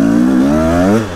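A Husaberg TE 300 motorcycle engine revs loud and close, its pitch climbing and holding for about a second before it drops back toward idle.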